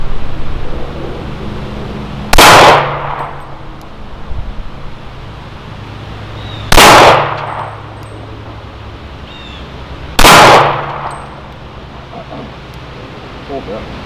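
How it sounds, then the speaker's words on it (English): A Les Baer Stinger 1911 pistol fires Freedom ammunition, giving three sharp, loud reports spaced a few seconds apart, each with a short decaying tail, over a steady breezy outdoor hiss. "Les Baer Stinger shooting Freedom ammunition."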